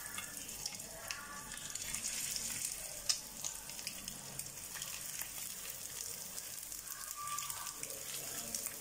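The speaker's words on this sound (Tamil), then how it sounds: "எண்ணெய் நல்லா சூடானதுக்கப்புறம் ஒன்று ஒன்றா போட்டு எடுத்துக்கலாம்" Egg 65 pieces drop into hot oil and deep-fry with a faint, continuous bubbling crackle. Occasional small pops and clinks sit over a soft kitchen background, with no one talking.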